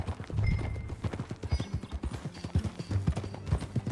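Horse hooves clip-clopping in Red Dead Redemption 2, a steady run of close, fairly loud hoofbeats on hard ground, rhythmic and continuous throughout.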